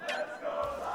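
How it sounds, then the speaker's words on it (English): A tournament crowd at a Wii U Smash Bros. top 8 chants for the player Lilac, a sustained mass of voices rising and falling together, fairly loud and continuous with no single speaker standing out. "That's the correct chant. Let's go, Lilac, coming out Lilac from the crowd."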